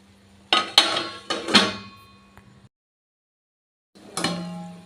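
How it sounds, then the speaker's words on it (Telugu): A metal lid goes onto a pan of cooking egg bhurji with a few ringing clanks and rattles, a short silence, then one more clatter of metal. "ఇప్పుడు మూత పెట్టి వదిలేద్దాం"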